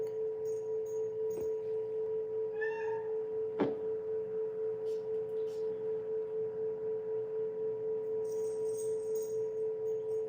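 A cat named Osiris meows a few times, short and fairly faint, over a steady electrical hum, with one sharp knock midway.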